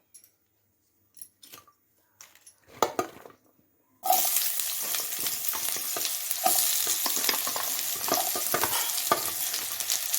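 Onion with ginger, cinnamon and cloves bursts into loud, continuous frying in oil in a kadai, starting abruptly after a few quiet handling clicks and staying dense with close stirring scrapes.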